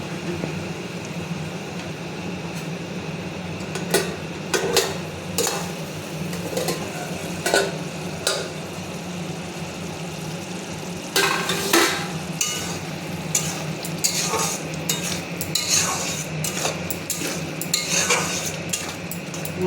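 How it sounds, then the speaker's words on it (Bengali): A spoon stirs prawn curry in a pan, with repeated sharp scrapes and knocks against the metal, irregular and close, over a continuous sizzling hiss. "মাঝে আবার নাড়া দিয়ে দেখবে লেগে ঠেকে না যায়"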